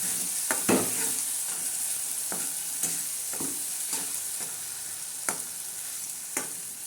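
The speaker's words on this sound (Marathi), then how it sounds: "आता हा मसाला मस्तपैकी परतत आहे" Masala being sautéed in a pan gives a soft continuous sizzle, broken by repeated sharp spatula scrapes and taps at irregular intervals.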